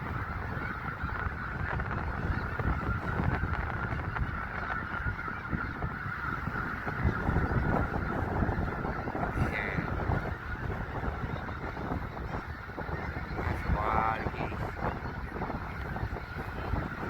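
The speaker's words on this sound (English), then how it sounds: "It's gonna be million geese out there." Dense flock of geese in snowy open country, a continuous wash of overlapping honks and calls carried on steady wind noise, no clear single bird standing out.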